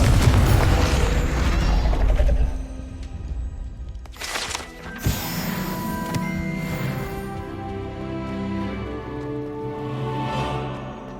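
Confringo blasting-spell explosion in Hogwarts Legacy, a loud booming burst with rumbling and creaking mechanical debris that slowly fades into a lingering tonal game score.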